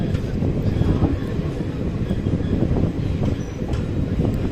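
Ranikhet Express passenger train at a curved station platform, a steady loud low rumble of rolling wagons with wind buffeting throughout, no talk.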